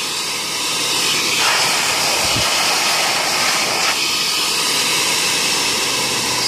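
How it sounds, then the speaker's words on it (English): An Aireexpress LAL P/1500 air blower runs at full pressure, giving a loud, steady roaring hiss with no talk. Two brief dips in tone break the constant blast. "with this new one, it's blowing everything, the air pressure it needs"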